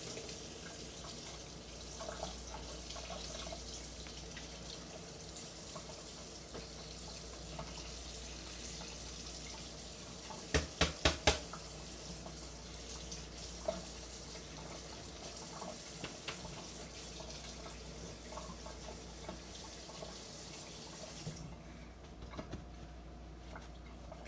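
Tap water runs steadily into a sink while an icing tip cap is rinsed under it, with a few brief clinks around the middle before the flow eases near the end.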